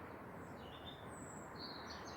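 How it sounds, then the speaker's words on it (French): Small birds chirp faintly at dawn, their thin high calls coming from a distance over a steady low background hum, sparse and gentle, with no voices. "Écoutez les petits oiseaux."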